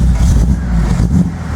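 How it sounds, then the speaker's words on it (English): A Datsun 240Z engine in neutral revs up briefly, a loud, lumpy low rumble that swells and eases over about a second and a half. "Actually, that's revving a little better."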